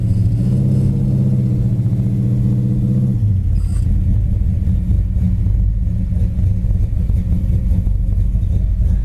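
A 1969 Pontiac GTO's V8 engine idles steadily at about 1,000 RPM with a deep, loud, continuous rumble, a low burble holding even throughout with no voices.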